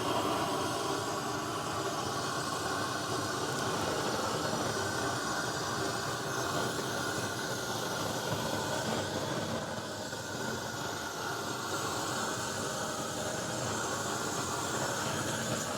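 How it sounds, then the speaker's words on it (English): GrillBlazer grill gun torch searing steak: a steady, loud roaring hiss of the flame that holds an even level throughout, with no talking over it. "we're going to go ahead and sear our steak right quick using the grill gun from grillblazer.com"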